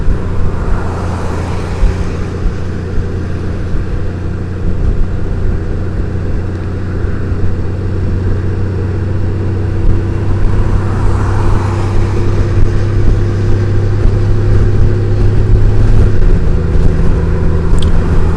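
A 2018 Honda Goldwing DCT motorcycle accelerating, its engine a steady low droning hum that builds gradually and grows louder toward the end, with smooth gear changes barely breaking the sound.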